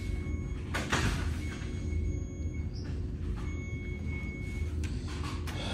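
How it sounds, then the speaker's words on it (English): Hospital doors sliding shut in a delivery room before an early birth, a smooth rolling slide with a soft thud over a low steady hum of room equipment, no voices. "They closing the doors, y'all."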